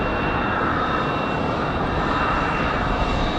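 Loud, steady jet engine roar from an aircraft taking off on runway 5 left at Raleigh-Durham airport, a dense, unbroken rumble with no voices, on a windy day.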